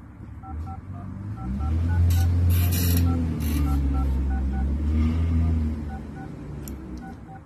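A telephone keypad sends a quick series of short beeping tones to enter a voicemail code, each brief tone evenly spaced, heard over a steady low hum.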